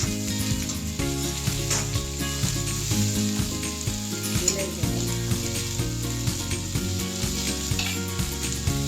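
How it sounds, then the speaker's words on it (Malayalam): Chopped green beans for Kerala payaru thoran sizzling loudly in a pan while stirred, a dense continuous hiss with regular scraping strokes, close by and free of talk. "അതിലേക്ക് അരിഞ്ഞ പയർ ഇളക്കുക."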